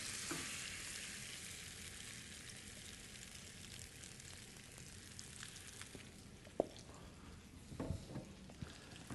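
Potato frittata mixture hitting hot oil in a pan, a soft steady sizzle that fades slightly, punctuated by a few sharp taps and scrapes toward the end.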